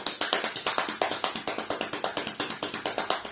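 Hands tapping on knees to imitate heavier rain in a children's activity class: a fast, steady stream of soft close taps, roughly eight a second, with no talking.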